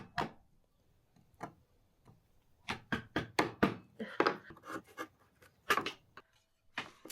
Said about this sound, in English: Now I just have to chisel out the corner to get my edge.